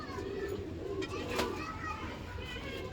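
A domestic pigeon coos softly at a pigeon keeper's home while children play and chatter in the background.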